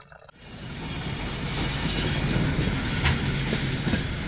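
A very short one-carriage train passes near Lake Baikal, its steady rumble and clickety-clack of wheels rising quickly and holding at a moderate distance, with faint squeals and no talk.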